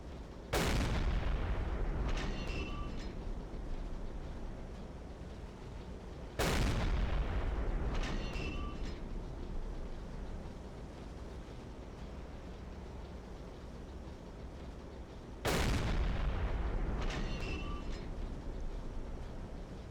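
Three heavy booming blasts from 105mm naval guns in Silent Hunter 3 arrive several seconds apart, each followed by rumbling and crackling explosions that trail off, with a continuous low roar between.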